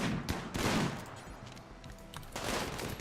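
Repeated bursts of gunfire from colonists shooting at melee raiders in the game Rimworld, sharp volleys rising at the start and again near the end over a steady battle din.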